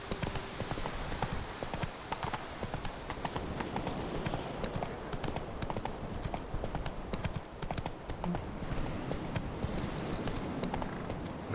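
Hooves of Roach, a horse in The Witcher 3, clip-clop steadily at a gallop, close and fairly loud throughout, with a soft whinny and faint game ambience underneath.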